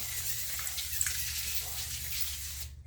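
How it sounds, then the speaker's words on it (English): A steady, continuous hissing spray from an avocado oil aerosol can runs for a few seconds before cutting off abruptly. "So I'll put the avocado spray down."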